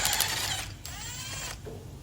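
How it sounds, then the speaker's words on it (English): A breaker bar cracks loose a front brake caliper bolt on a Ford Transit Custom van, producing two close bursts of metallic grinding and creaking at close range with no talking. "I'm just going to use a breaker bar now just to crack it up."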